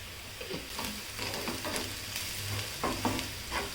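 Garlic, onion and chili sautéing in a pan give a steady close sizzle, with intermittent scraping stirs throughout and no talking.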